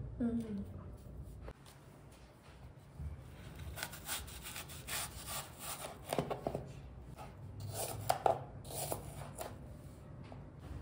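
A knife slices through banana and other fruit for a summer fruit salad, giving soft, faint scraping and cutting sounds on a board in an uneven rhythm, with a few louder taps, as someone talks over it.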